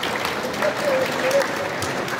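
A crowd at a knights' tournament event in Kladno applauds with a steady wash of clapping as a voice speaks over it.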